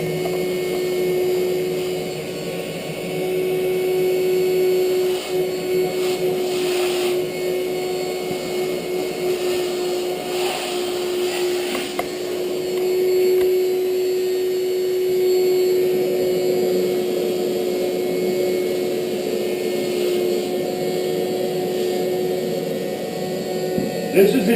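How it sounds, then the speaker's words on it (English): An electric air inflator runs continuously while filling an inflatable boat, a loud steady whining drone with a constant pitch that holds for the whole stretch. "inflator's pretty annoying"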